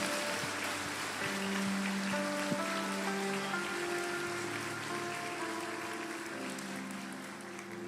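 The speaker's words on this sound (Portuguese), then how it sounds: "Você pode dar uma salva de palmas ao nome de Jesus." A church congregation claps softly and steadily in praise of the name of Jesus, a distant, rain-like patter under sustained instrumental music.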